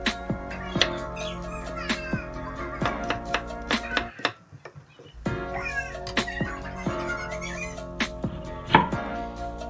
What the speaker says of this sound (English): after I did that, I sliced it into cubes